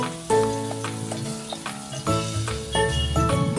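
Onions fry in a pan with curry leaves, a close sizzle layered with clanking stirring strokes that land in uneven bursts every half second or so.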